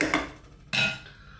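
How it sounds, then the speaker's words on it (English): A lid set back onto a soup pot of lamb and vegetable bone broth, two brief metallic clanks close by, the second louder and ringing out briefly. "lid back on."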